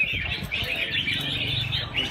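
Red-whiskered bulbuls sing at a bird-song contest, with bright, overlapping chirps and warbles running continuously and fairly close, over low background murmur from the event.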